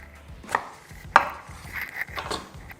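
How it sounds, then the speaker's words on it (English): A knife cuts down the middle of a butternut squash on a board, giving a few sharp, close chopping knocks at uneven intervals with no talk. "Cut it right down the middle."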